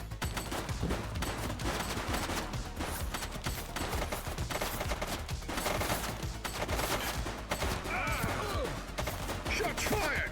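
Sustained rapid gunfire in The Precinct police game, with dense overlapping shots and crashes running steadily throughout, loud and close.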